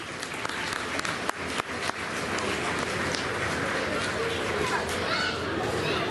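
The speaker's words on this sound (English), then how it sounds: "Round of applause for Nat," Audience applause fills a room for a guest actor at a fan event, dense steady clapping throughout, with a few sharper claps early on.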